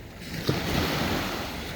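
Sea waves at the seaside at sunset: a steady wash of surf with wind noise on the microphone, one brief splash or crash, then a continuous moderate roar.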